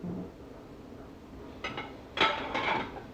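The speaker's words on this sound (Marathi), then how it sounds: "तर आता मी सगळी भांडी वरती शेल्फ्समध्ये लावून घेते" Clean dishes taken from a dishwasher are set onto shelves, giving a few brief clinks and clatters of dishware over a quiet room, louder toward the end.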